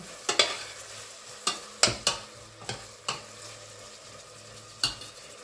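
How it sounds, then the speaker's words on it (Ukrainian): Small pieces of chicken fry in a soup pot under a quiet sizzle, while a spoon stirs them in sharp scraping knocks. About eight distinct strokes come at irregular intervals, close by, and nobody speaks. "Також все перемішую і хай м'ясо так обсмажується."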